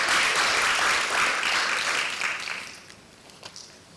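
Applause from an audience at a health summit forum in Tanzania, dense and steady for over two seconds before thinning out, with a few scattered late claps near the end.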